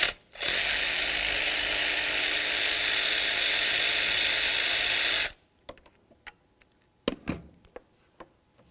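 A ratchet spins rapidly on a water pump bolt of a 2000-2005 Buick LeSabre, giving a loud, close buzzing whir for about five seconds, then scattered clicks and metallic clinks of tools.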